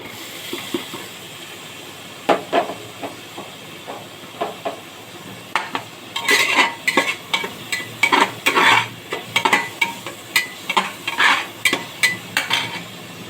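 Onion frying in a pan for pav bhaji, stirred with a spoon: a soft sizzle under a quickening run of sharp scraping and clinking strokes against the pan, close by, with no talking.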